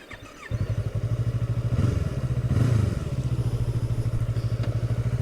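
A Yamaha YZF R25 sport motorcycle fires up after a short quiet moment, then settles into a steady, loud, throbbing twin-cylinder idle with a brief swell partway through, heard up close with no talking.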